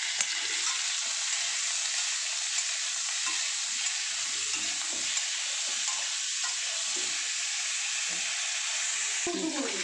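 Potatoes frying in a pan while being stirred, a loud continuous sizzle with soft scraping and shuffling under it, close up and steady throughout.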